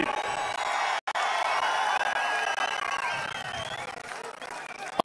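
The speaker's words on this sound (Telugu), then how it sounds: "గట్టిగా చప్పట్లు కూడా చెప్పండి" A crowd at a political rally applauding and cheering, a sustained roar of clapping and voices that holds steady for five seconds with no clear break.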